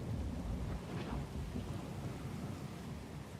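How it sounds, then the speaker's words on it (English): Thunderstorm in the video game Pillars of Eternity II, a dense steady roar of heavy rain with a low rumbling of thunder underneath, loud and continuous throughout with no voices. "The storm was pretty loud."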